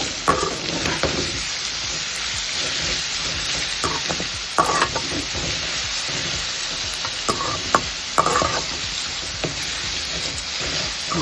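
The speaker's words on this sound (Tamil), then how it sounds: "இப்போ பாருங்கள், துருவின மாங்காவும் பச்சை மிளகாவையும் சேர்த்துட்டேன். இதை நல்லா வதக்கிடுங்க." Grated raw mango and green chillies sauté in a hot pan for mango rice, a steady close sizzle broken by repeated scraping strokes of a spoon stirring the mixture.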